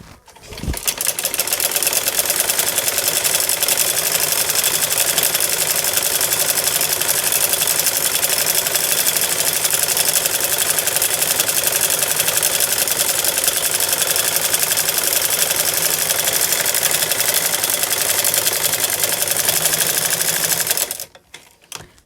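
A sewing machine runs steadily for about twenty seconds, stitching a salwar seam in one continuous pass, loud and close with no talking, then stops.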